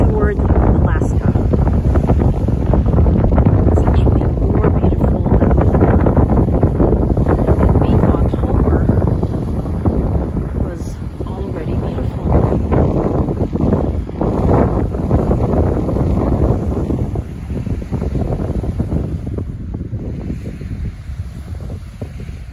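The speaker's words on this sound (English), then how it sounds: "It's very windy." Strong, cold wind buffets the microphone in a constant loud roar on a boat tour in Prince William Sound, Alaska, easing slightly toward the end, with faint water and boat sounds beneath.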